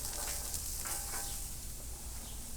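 Onions sizzling on a cooking stone, a soft, steady frying hiss at low level with faint crackles, no voices over it.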